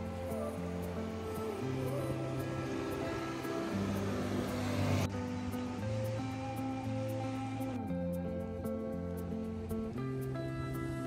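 Sea surf on the beach at Helgoland, a steady washing roar of waves heard at moderate level, with faint tonal engine-like hums running underneath and no talking.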